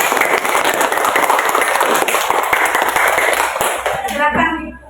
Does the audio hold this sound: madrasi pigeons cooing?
no